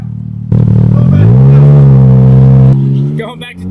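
A car running a backyard gymkhana course in all-wheel drive, its engine revving hard and close, rising and holding a strained droning pitch for a couple of seconds before easing off into clattering noise.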